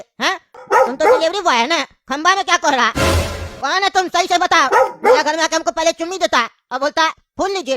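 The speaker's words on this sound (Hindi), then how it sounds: "तो ये कुत्ता लोग भौंक रहा है।" Dogs bark repeatedly close by in short bursts, mixed in with continuous loud speech from people talking over them.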